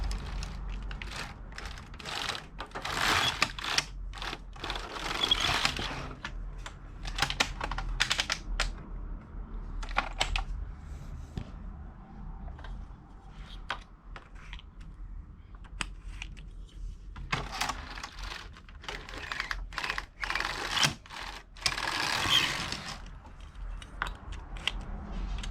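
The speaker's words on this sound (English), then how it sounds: "we just have to do a few rows until we think it's going to keep knitting off well" A Passap E6000 knitting machine knits rows of a sock heel, giving bursts of sharp mechanical clacking and ratcheting as the carriage passes, separated by quieter pauses, with no voices.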